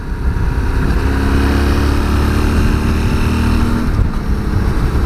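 A 2020 Yamaha Tenere 700 motorcycle hums with a steady, loud engine drone as it is ridden. Low rumble and wind noise stay constant throughout, and no one speaks.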